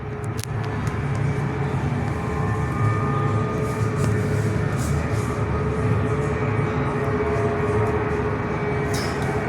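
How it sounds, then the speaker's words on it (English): A Jetstar Airbus A320 departs runway 21 bound for Cairns, its jet engines producing a loud, steady broadband roar that holds for the whole stretch, heard from an indoor viewing area with no talk. "Jetstar A320 off to Cairns, departing runway 21."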